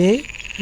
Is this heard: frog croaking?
yes